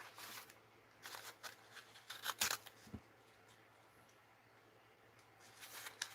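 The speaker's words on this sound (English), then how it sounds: "take your scissors and cut it on the sides" Scissors snip along the sides of a package in a craft studio, giving a few soft, close crunchy cuts in short bursts with quiet pauses between them.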